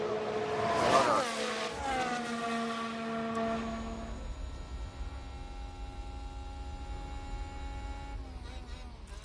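An F1 car engine in the racing game F1 Manager 22, a loud whining rev that climbs and sweeps in pitch at first, then settles into a steady sustained drone.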